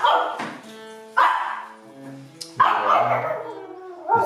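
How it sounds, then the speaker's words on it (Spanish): A small chihuahua barks indoors in three separate bursts of sharp, high yips with whiny tails between them, close and fairly loud, with no talking. "Está ladrando."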